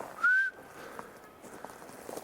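A single person whistles once toward wild animals beneath structures in a natural setting, a short bright rising note that holds briefly and fades, followed by quiet outdoor ambience with faint scattered sounds.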